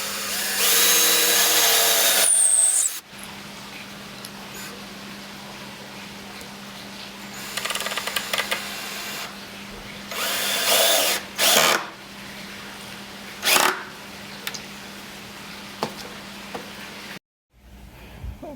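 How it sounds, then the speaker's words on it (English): A power drill boring a pilot hole in wood for deck screws while building a wooden gate, with a loud whirring burst at the start followed by several shorter, fainter drilling bursts and pauses. "now I'm going to drill a pilot hole in the wood here so that I can install deck screws"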